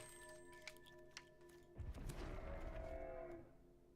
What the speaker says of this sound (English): Moo! That's the sound a Hellion makes